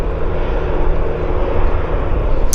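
Airliner engine spooling up at Vancouver Airport, a steady loud low roar with a continuous hum, heard from nearby without voices.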